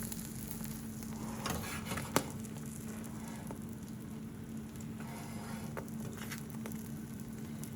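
Omelette cooking in a frying pan, a soft steady sizzle with light crackles and a small tap near the start, faint and close, no voices.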